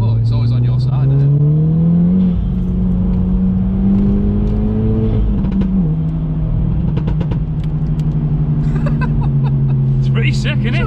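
An Audi S1 engine revs hard and rises in pitch, loud and close, with crackling exhaust bangs toward the end and people talking over it.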